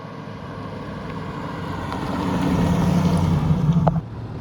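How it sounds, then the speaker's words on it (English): A TVR with a Rover V8 engine idling, a steady low rumble that swells slightly louder midway and then drops back, heard alone with no talk. "although they're both powered by the same Rover V8, the TVR is certainly louder on startup and idle"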